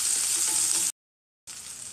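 Small shallots fry in hot oil with curry leaves while a bottle gourd stir-fry is cooked, a loud, steady hiss that cuts out for half a second and then comes back.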